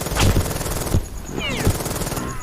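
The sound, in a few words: gunfire in a tank war video game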